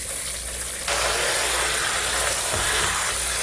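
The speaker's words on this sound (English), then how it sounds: "We might use our little spray gun here." Steady broadband hiss of a kitchen sink spray nozzle running cold water over noodles, starting a moment in and continuing strongly, with a faint clunk partway through.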